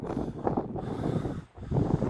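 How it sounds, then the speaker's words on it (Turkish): Strong gusting wind from a storm buffets the microphone outdoors among hazelnut trees, with a rough, roaring rumble that briefly drops out before surging back. "Ama çok aşırı derecede bir fırtına, rüzgar var"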